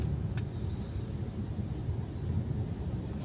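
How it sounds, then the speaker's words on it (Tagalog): Heavy, slow-moving road traffic near the NAIA terminal in Barangay Moonwalk, Parañaque, a continuous low engine drone and rumble with steady wind-like noise, no voices. "Sobrang traffic."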